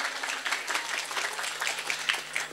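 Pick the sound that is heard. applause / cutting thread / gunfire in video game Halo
applause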